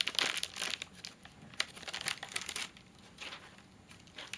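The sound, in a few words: snack bag being opened, crinkling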